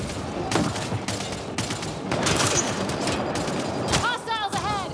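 Gunfire in Mass Effect: Andromeda: rapid, dense bursts of automatic weapons and impacts, loud and close, with game voices briefly calling out near the end.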